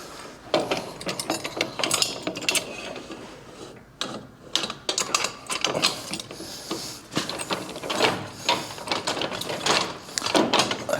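A trailer jack on a mobile sandblast trailer ratchets as it is cranked up, giving a loud, steady run of close metallic clicks and clacks that continues for several seconds.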